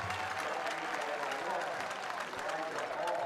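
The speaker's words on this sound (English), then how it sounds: "This Northwest crowd, they are letting those fans from Wayne County hear it every time that they do something." The Northwest home crowd roars and applauds at a high school football game against Wayne County, a broad steady wash of cheering and clapping under a play-by-play announcer talking over it.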